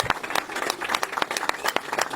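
An audience claps and applauds at a car handover event for an Ethiopian artist, with dense, uneven clapping that swells in bursts throughout and no voices on top.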